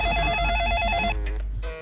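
A telephone bell rings in a home in quick repeated trills for about a second, then stops, leaving a low background hum and faint room noise.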